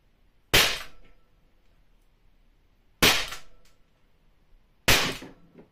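An LTL Alpha .50 caliber less-lethal gun fires three sharp, loud shots spaced a couple of seconds apart, each a crisp crack that fades quickly into a quiet outdoor background.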